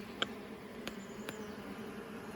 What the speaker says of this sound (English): there are literally bees everywhere working alive in there